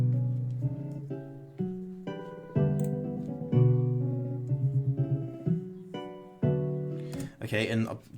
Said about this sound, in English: like a harp type instrument